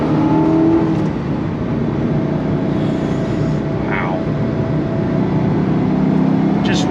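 A 2005 Ford GT supercar with a manual transmission, its engine droning loud and steady from inside the car, with a slight rise and fall in revs throughout.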